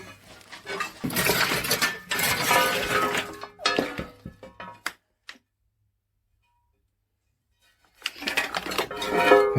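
Old metal stove plates clank and clink loudly as they are handled and shifted at a large estate, in dense close bursts that break off into silence before another round of rattling starts.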